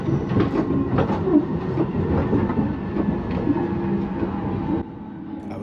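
A London Underground Jubilee Line 1996 stock train running between Stanmore and Wembley Park, heard from the driver's cab: a steady rumble with clicking wheels and faint squeals, easing slightly at the end.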